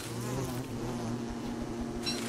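Bees in the video game Don't Starve Together buzz with a steady, low drone that stays constant throughout, faint and unaccompanied by speech.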